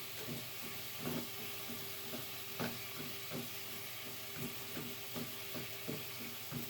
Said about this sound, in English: let these kind of saute in that Worcestershire for a minute